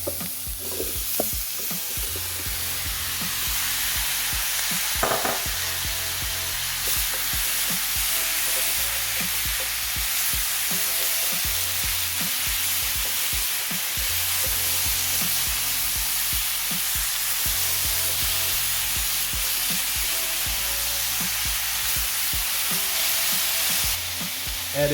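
Breakfast potatoes sizzle steadily in a hot frying pan while a utensil stirs and scrapes them now and then, a dense, close crackle that runs throughout without any talking.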